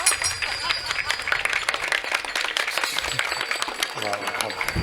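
Audience clapping along during a comedy kirtan, a dense run of sharp hand claps at a steady pace with a voice speaking over it and a crowd filling the room.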